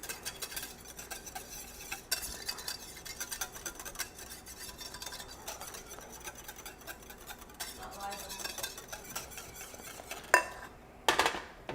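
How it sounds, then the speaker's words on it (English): Coconut milk whisked in a pot just off the boil, a quiet close clatter of a whisk against the pot with small clinks and a few louder knocks near the end, no talking. "We're gonna just turn that off right now and just make sure it's nice and whisked together."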